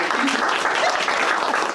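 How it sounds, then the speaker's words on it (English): Visitor center audience applauding for a speaker, a short burst of dense, close clapping filling the room. "Let's applaud for Linda."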